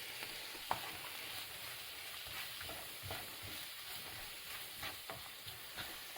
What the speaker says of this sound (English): You can hear that sizzle, which means the pan is hot